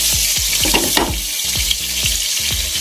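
Pointed gourd (potol) frying in a pan with steady sizzling broadband hiss, punctuated by several sharp low thuds and pops from the pan, close and fairly loud.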